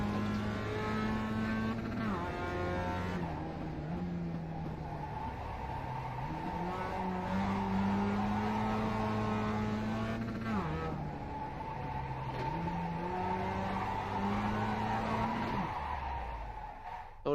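A Mazda MX-5 race car in iRacing at Okayama drifts and slides, its engine note rising and falling through gear changes while tires squeal and scrub continuously; a voice talks faintly over it.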